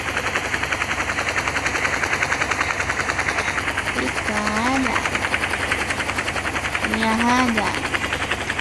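A helicopter in the Rope Hero video game drones with a rapid, steady rotor chop throughout, while someone talks briefly over it midway and near the end.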